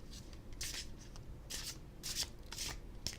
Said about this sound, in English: So we're going to pull a few more cards